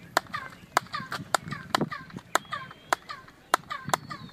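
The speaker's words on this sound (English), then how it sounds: "Chichen Itza echo clap" Handclaps at the Chichen Itza pyramid, each returning a chirped, bird-like echo. About a dozen sharp claps are spaced roughly half a second apart, and every one is followed by a descending chirp.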